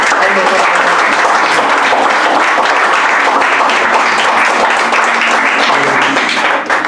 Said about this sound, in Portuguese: Uma salva de palmas para Jesus Cristo.